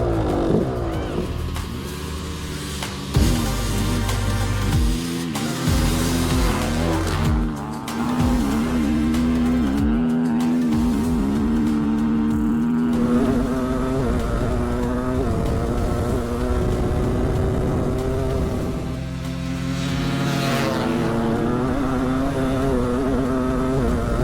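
Dirt bikes, including a two-stroke 500 and a KTM 500, roar through a quarter-mile drag race, engines loud and close with rising, buzzing revs and gear changes sustained throughout.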